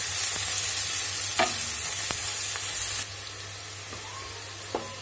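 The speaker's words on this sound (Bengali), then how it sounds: "তো পেঁয়াজ রসুন ভাজা ভাজা হয়ে গেছে" Onion and crushed garlic paste frying in a pan, a steady soft sizzle with a few scraping stirs and clicks of a utensil, quieter after a slight drop midway, no talking.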